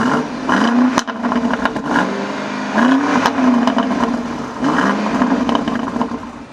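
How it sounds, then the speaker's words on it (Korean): A powerful BMW X6 M50i SUV engine revs hard in repeated bursts, its exhaust roaring up and settling back between pulls, loud and close with no talking. "이 무시무시한 녀석의 배기음을 또 들어보도록 하죠"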